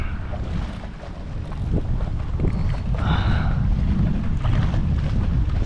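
Strong wind roars across a microphone while kayaking on open water, a loud continuous buffeting rush that builds after the first second, with splashing and water movement underneath and no voices.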